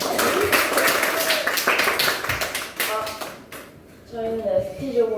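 Classroom audience claps for students about to present their group results, a dense burst of close handclaps that thins out and gives way to voices talking near the end.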